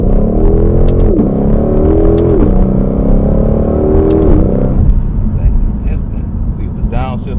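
A Mustang GT500 downshifts in manual mode using paddle shifters, its loud engine note dropping and rising across several quick shift blips before settling to a rumble, with someone talking over it.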